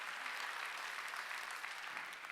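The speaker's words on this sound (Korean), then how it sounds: "박수 치려면 세게 치라니까." Applause from a church congregation at a Wednesday worship service, a steady dense wash of many hands clapping at a moderate distance, filling the whole stretch with no voices on top.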